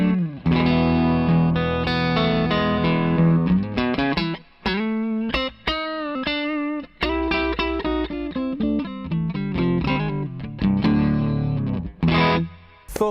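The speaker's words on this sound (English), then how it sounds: "So clean sound, the old trusty Telecaster into the Victory V40." A clean electric guitar, a Telecaster, plays chords and melodic phrases through a Victory V40 tube amp with a Thorpy FX Veteran pedal, with warm sustained notes, short pauses and a light effect shimmer, no voices.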